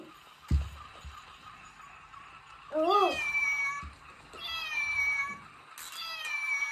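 A cat meows several times nearby, short rising and falling cries separated by pauses, with a soft thump at the start.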